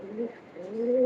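A Teddy pigeon gives a close, soft two-part coo, a low throaty murmur that rises and swells toward the end.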